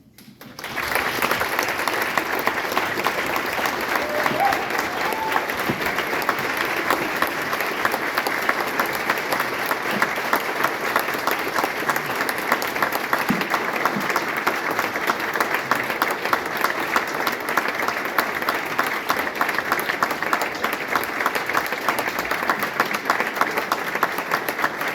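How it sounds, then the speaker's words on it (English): Sustained applause from a large audience, steady and dense clapping that swells in quickly and carries on without pause. "The clapping could continue, I'm sure, for a long, long time."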